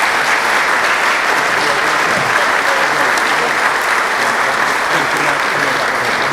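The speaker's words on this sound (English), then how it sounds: "Let's give our speakers another round of applause." Sustained, loud applause from a banquet audience honoring speakers, a dense uniform wash of clapping with no pauses.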